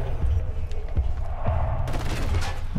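Gunfire in the first-person shooter Killzone Shadow Fall comes as a few muffled, booming shots in quick succession amid game ambience, with a player's voice faint in the background.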